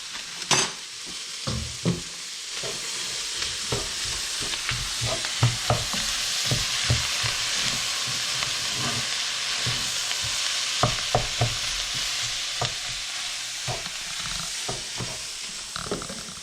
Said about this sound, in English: Give it a stir so everything is coated in butter.